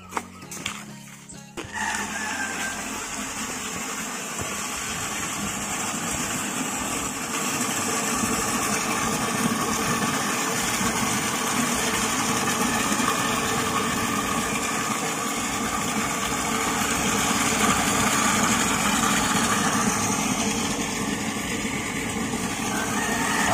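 A small water well pump engine starts with a few sputters, then settles into a steady, continuous hum and rattle, running on without pause for a long stretch nearby.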